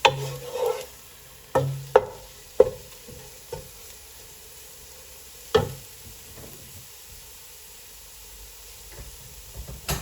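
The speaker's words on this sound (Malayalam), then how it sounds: "ഒന്നുകൂടെ ഒന്ന് ഇളക്കി യോജിപ്പിക്കാം." Spoon stirring mutton masala in a pan, several sharp scraping clinks and knocks spaced irregularly over a faint background sizzle, close and fairly quiet between strokes.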